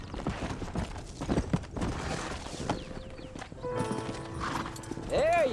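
Horse hooves clip-clopping in the Western video game Red Dead Redemption, with a whinny and farmyard chickens mixed in, over steady game ambience and voices talking.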